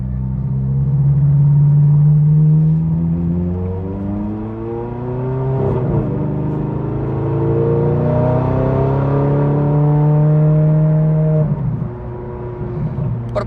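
A 777 hp Ferrari 430 drives in automatic gearbox mode, its loud, close engine climbing steadily in pitch and dropping sharply at two upshifts before rising again, with no talking.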